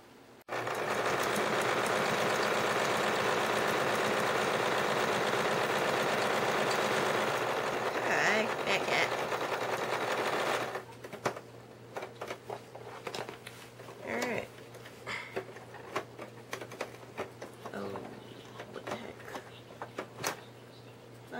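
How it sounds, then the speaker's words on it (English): A sewing machine hums steadily for about ten seconds while stitching fur cosplay ears, then stops; scattered clicks, handling noises and brief stitching bursts follow. "it's boring to watch me use a sewing machine"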